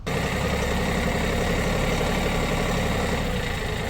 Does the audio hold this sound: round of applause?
no